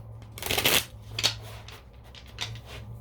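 A few quick papery riffles of tarot cards (Morgan Greer deck) being shuffled, one longer burst followed by two shorter flicks, close up and quiet with no speech.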